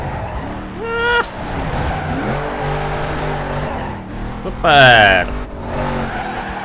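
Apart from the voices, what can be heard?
car drifting with tire squeal in the video game NFS Carbon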